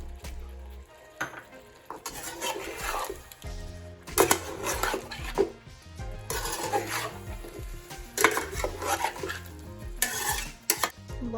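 Whole spices (bay leaf, cinnamon stick, black cardamom, cloves, black peppercorns) going into a cooking pot for aloo chicken karela, stirred with a spoon: repeated scraping and clinking bursts of metal on the pot over a soft sizzle, close and steady, with no talk.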